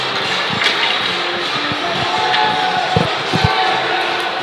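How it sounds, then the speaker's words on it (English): A crowd at a Kentucky Wildcats college ice hockey game against Wake Forest makes a continuous roar of cheering and arena noise, with a few thumps and knocks breaking through. "They get some nice cheers from the Kentucky crowd."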